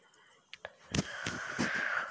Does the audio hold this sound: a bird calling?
yes